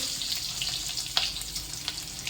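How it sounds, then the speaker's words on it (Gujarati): Chopped onions hitting a hot pan with cumin and frying for paneer butter masala, a steady close sizzle with a few sharp crackles, no talking. "પછી તેમાં મેં 2 મીડિયમ સાઇઝની ડુંગળી લીધેલી છે તે ઉમેરી દઈશું"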